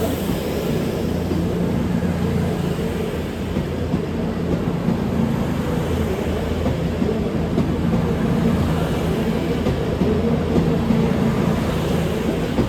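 Class 221 train 221139 at Newcastle station gives off a steady low rumble and hum with no clear change in loudness, and nobody speaks.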